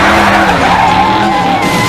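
A Hot Wheels diecast toy truck skids on a race track, a loud, continuous screeching slide with a wavering high squeal held for about two seconds.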